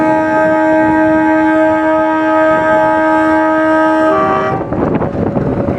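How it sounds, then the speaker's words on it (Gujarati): A short passenger train on the Veraval–Junagadh route stands at a station and sounds a loud, sustained multi-tone horn for about four seconds before it cuts off, leaving the rail rumble. "આ જો ટ્રેન આવી ગઈ અહીંયા."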